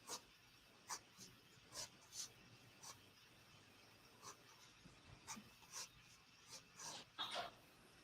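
A puppy pants in quick, breathy puffs with a few faint whimpers between them. The sound is quiet and close, with no talking over it.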